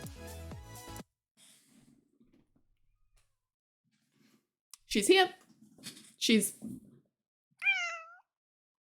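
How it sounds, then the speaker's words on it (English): A pet cat named Nella meows several times, short close cries after a woman's brief speech, with quiet gaps and a final rising meow. "Would we like to all hear the meow?"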